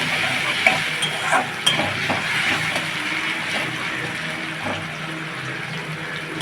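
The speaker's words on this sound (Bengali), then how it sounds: "আলুটা ভেজে নেবো" Potato pieces fry in hot oil with turmeric and salt while being stirred in a pan, a loud continuous sizzle broken by a few sharp scraping stirs near the start.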